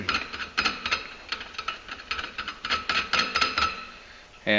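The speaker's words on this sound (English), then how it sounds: "we got our CCT 510 compression tool in here again" A CCT 510 clutch compression tool is cranked down on a Polaris 900 Ranger clutch, producing a rapid series of close ratcheting clicks in short bursts that end with a brief metallic clunk.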